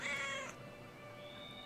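A cat meows in the video game Brothers: A Tale of Two Sons, one short, bright meow up close followed by a thin, lingering tone over quiet game ambience.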